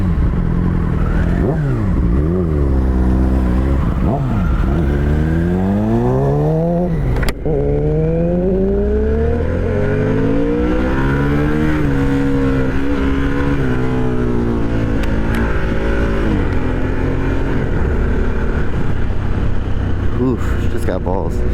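A Harley-Davidson Sportster 1250cc motorcycle ridden at speed, engine loud and close with rising and falling pitch sweeps as it revs and shifts through gears, steady wind roar beneath throughout.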